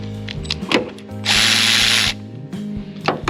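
A power tool, likely an impact driver or drill, spins off the 15 mm wiper arm nuts on a 2017-2021 Tesla Model 3, with a steady close whirring burst of about a second between short clicking ratchet sounds.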